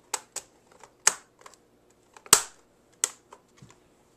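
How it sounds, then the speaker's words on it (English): Plastic covers being fitted back onto a Toshiba Satellite P500 laptop, a handful of sharp close clicks and snaps separated by quiet gaps, with no talking. "Now we're going to reapply the plastic"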